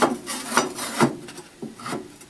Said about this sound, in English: So what I'm doing is very gently dumping it in the bucket.